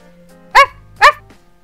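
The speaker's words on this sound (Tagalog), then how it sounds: "Tahol ng tuta." A puppy gives two sharp, close barks about half a second apart against a quiet background.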